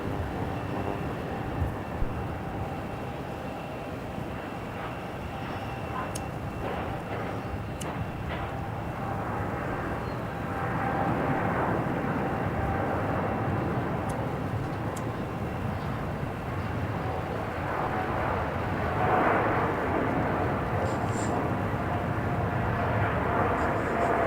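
An airliner takes off from runway 34 at Melbourne Airport, a broad, steady engine roar heard from a distance that holds throughout and swells slightly in the second half.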